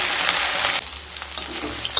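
Okra frying in hot oil on a high flame, a loud dense sizzle that drops off partway through, then quieter crackles and a brief scrape near the end.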